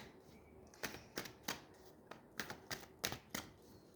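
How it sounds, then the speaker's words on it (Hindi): Tarot cards shuffled by hand with a run of crisp, evenly spaced flicks and slaps, roughly eight sharp card snaps in quick succession, close and fairly quiet, with no talking. "सबसे पहले ये कार्ड गिरा है 2 of Wands। बहुत सारे कार्ड गिरे हैं।"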